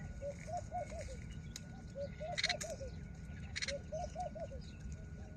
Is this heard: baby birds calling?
yes